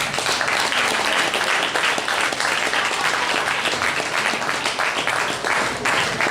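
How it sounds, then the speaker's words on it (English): Audience at a live debate on reasons to believe in God breaking into steady, loud applause, dense clapping from many hands that continues evenly throughout. "Let's give him a hand."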